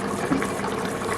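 Cold water being poured into a creamy tomato sauce for chicken fillets in a home kitchen, a steady close splashing gush lasting about a second with no talk.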